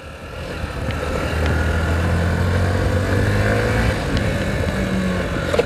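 A Hero Passion Xtec 110 BS6 motorcycle engine with a worn clutch plate runs close by with a steady low drone that swells slightly partway through, with no voices.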